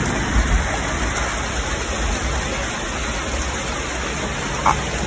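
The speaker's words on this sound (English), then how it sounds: "And it's raining harder." Heavy rain falls steadily during a thunderstorm, a dense close wash of drops on surfaces with faint small knocks and no voices.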